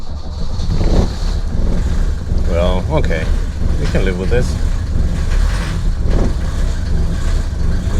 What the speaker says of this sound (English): Now let's see how the car starts up.